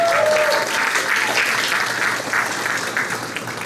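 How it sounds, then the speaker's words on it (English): A crowd at a DFL and labor endorsed county commissioner campaign event bursts into dense, sustained applause that fills the room, fading slightly toward the end. "Give yourselves a round of applause."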